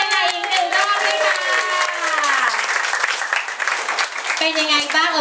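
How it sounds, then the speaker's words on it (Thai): Audience applause fills a children's storytelling show, steady and dense from start to finish, with voices talking over the clapping. "ขอเสียงปรบมือ"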